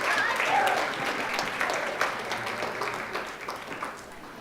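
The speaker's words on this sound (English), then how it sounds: "if we can also give her a round of applause for being with us today" An audience at a children's charity gala breaks into warm applause, loud at first and gradually thinning over four seconds into scattered claps, with faint murmurs in the room.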